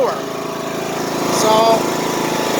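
A lawn mower engine running just after an oil change, a steady close buzzing putter with a slight rise in revs midway, while someone talks over it.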